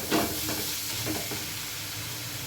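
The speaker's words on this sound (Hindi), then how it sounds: "अभी इसको मसाले को भून लेती हूँ" Masala spice paste being sautéed in a pan for an aloo sabji, a steady close sizzle with a few scraping stirs near the start, no talking.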